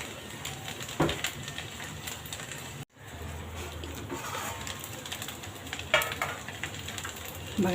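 Peanuts roasting in a pan for sweet coconut rice, stirred gently by hand, give a steady dry sizzle and soft scraping, with a brief dropout near the middle and a few louder clatters.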